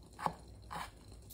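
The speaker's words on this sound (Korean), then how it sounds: "단무지는 반으로 잘라주시고, 또한번더" A knife cuts through pickled yellow radish (danmuji) on a board, making two short, crisp crunches about half a second apart, close and fairly quiet.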